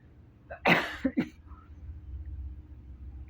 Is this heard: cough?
yes